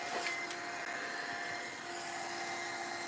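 A heat tool blows a steady, even roar while drying paint on an altered-art pumpkin, a continuous airy whoosh held at constant volume from start to finish.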